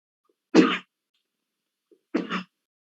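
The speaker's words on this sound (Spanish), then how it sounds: "pequeño estornudo." Two small human sneezes, each short and sharp, spaced well apart, close up and otherwise surrounded by silence.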